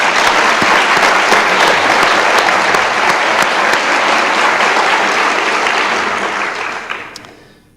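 A seated audience applauds loudly and steadily at a speaking event, the dense clapping holding for several seconds before fading out near the end.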